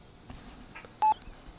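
A single short phone-dialing beep rings out in The Sims 3 University, followed by faint scattered electronic blips over quiet game ambience.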